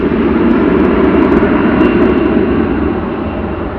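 A Finnair airliner taking off at DFW Airport, a loud, steady roar of jet engines held throughout without pause.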